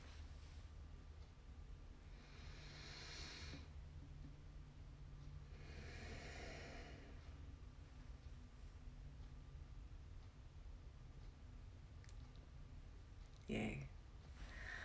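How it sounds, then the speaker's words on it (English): Slow breathing during a mindfulness practice, two long airy inhales and exhales, faint and close, followed by a brief sharp click near the end. "you're welcome to join me in a deep collective breath"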